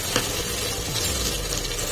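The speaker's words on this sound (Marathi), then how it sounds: "पिया मातशें बरो भाजती." Onions fry in a pan on an induction cooktop at low heat for a Goan crab dish, a constant close sizzling hiss with a faint stir near the start and no speech.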